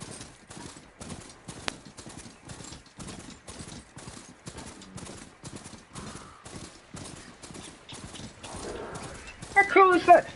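Horse mount hoofsteps in the video game Horizon Forbidden West, a steady rhythmic clip-clop of hooves at a trot, near and even, with a person talking over them throughout.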